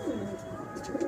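Racing pigeons kept by Khalifa Zahoor in Nizamuddin, Delhi coo softly in a few low, throaty murmurs, close but faint, with faint chirps and background noise.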